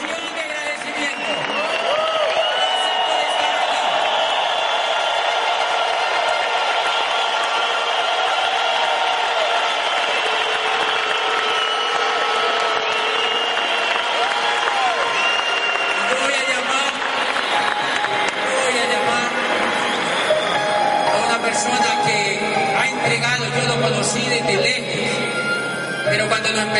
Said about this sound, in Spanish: vamos a darles una ovación de agradecimiento